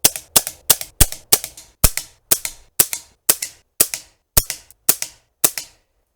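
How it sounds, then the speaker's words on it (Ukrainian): Sharp, sudden shots from a Diana mod. 6 air rifle, eleven or twelve of them, fired one by one at a steady pace, each a crisp crack with a brief ring. "Буду робити по 10 пострілів кожною кулею"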